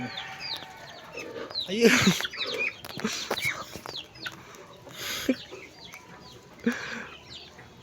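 Chickens cluck at a nest behind a house where ducks are also kept, with several short calls scattered through the clip and a brief spoken word between them.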